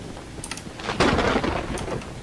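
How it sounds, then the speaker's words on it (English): A rumbling thunderclap rolls in during a storm in the horror game Choo-Choo Charles, swelling loudly after a second amid rain noise and fading slowly, with no one speaking. "Ooh, thunder."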